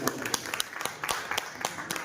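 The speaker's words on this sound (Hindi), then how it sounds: "मैं चाहूंगा जोरदार तालियां हो जाए हमारे कुंवर से।" Applause at a monthly meeting of a journalists' association, a few people clapping in scattered, uneven bursts, fairly close and moderate in volume, with voices mixed in.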